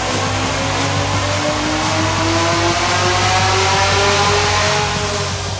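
Camaro engine roaring at sustained high revs on a dynamometer during a full power pull, loud and steady with rising harmonic tones throughout, no talking.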